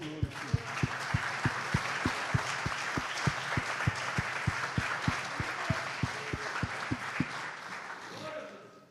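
Church congregation applauding in rhythm, strong unison claps keeping a steady beat over a broad crowd wash, with voices underneath, fading at the end.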